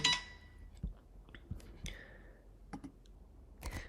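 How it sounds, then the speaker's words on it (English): A computer mouse clicking several times while setting up a manual run in a Compass Automations workflow, sharp isolated clicks spaced irregularly, close and fairly quiet with no talk. "So if I click on run,"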